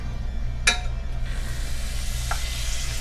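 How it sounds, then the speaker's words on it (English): Butter melting in a hot sauté pan gives a steady sizzle throughout, with a sharp clink of a utensil near the start and a fainter tap later; no one speaks. "So I've got a saute pan heating up, and then we're going to add some butter."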